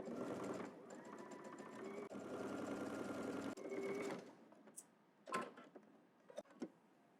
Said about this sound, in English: Now you're just gonna head to the machine and just stitch starting here all the way down to the hem using 5/8 of an inch seam allowance.